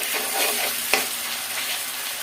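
Ginger garlic paste and spices fry in a pan, giving a constant close sizzle with one brief clink of a stirring utensil near the middle.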